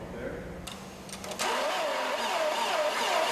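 A passenger car engine cranks in extreme cold, first a low labored churn, then a louder sustained whirring drone with a wavering pitch after a few sharp clicks, steady and close.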